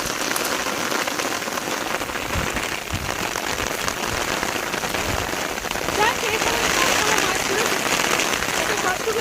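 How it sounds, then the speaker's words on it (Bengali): Heavy rain pours down steadily during a storm while fishing on a river, a dense, loud hiss of drops hitting surfaces that never lets up. "বৃষ্টির মধ্যে বৃষ্টির মধ্যে মাছ ধরি"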